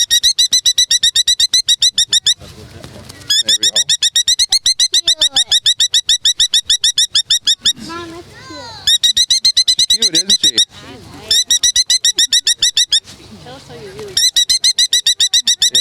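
A captive Merlin falcon at a raptor centre gives loud, rapid, piercing chattering calls in long repeated bursts with brief pauses, close by, with quiet rustling between bursts.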